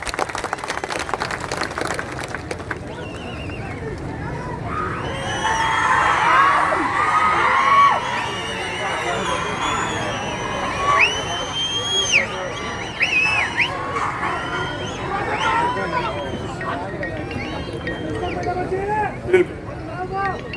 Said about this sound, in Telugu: మీరు రెండు చేతులెత్తి మీరు ఆ చప్పట్లు కొట్టారు